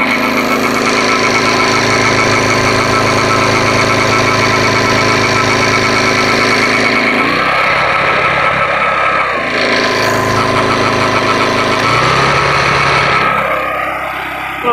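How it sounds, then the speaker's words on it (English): A homemade generator built from scrap parts, driven by a small engine under electrical load, runs loud and steady with a droning hum, its stator windings sparking and arcing in crackling bursts that change pitch partway through. "hear the stator and the windings of the generator sparking and arcing."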